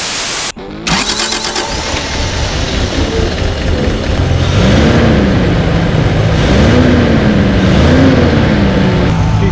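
A 1987 Toyota FJ60 Land Cruiser engine, left sitting for twenty years, fires after a short burst of cranking and settles into a loud, continuous rough idle with wavering revs, heard close up with no talking.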